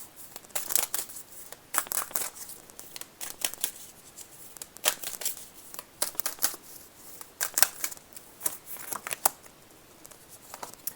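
Tarot oracle cards are shuffled and drawn by hand, a series of quiet, crisp riffling and flicking bursts in an irregular rhythm, with brief pauses between them.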